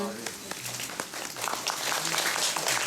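Audience applause at a Korean musical talk event for the show 나와 나타샤와 흰 당나귀, a steady crowd clapping filling the hall, with a voice speaking over it near the start.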